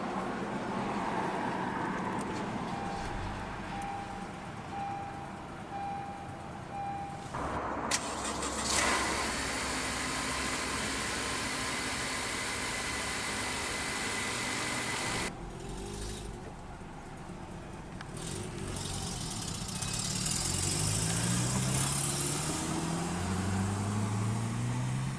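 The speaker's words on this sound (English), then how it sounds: "let's go ahead and start the engine" A 2016 Honda Accord EX-L sedan is push-button started, with a broadband burst partway through as the engine catches, then it settles into a steady, smooth idle that runs to the end with no talking.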